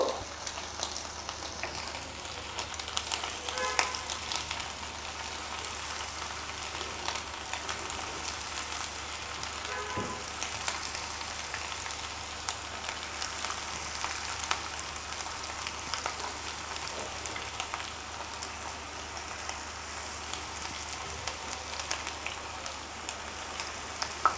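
Prawn pakoras frying in oil over low heat give a soft, continuous, rain-like hiss with faint scattered pops, steady and fairly quiet throughout, no voices.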